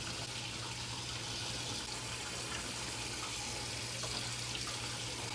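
Hot water from a pot of boiled sweet potatoes pours steadily into a kitchen sink as a continuous, fairly loud rushing splash over a low hum, with no talking.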